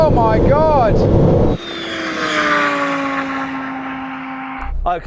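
Supercars race flat out: a Ferrari 296, McLaren 750S, Lamborghini Huracan Performante and Porsche 911 Turbo. Engines rise loudly in pitch, then one sustained roar climbs through the gears and passes close, with a voice speaking early on.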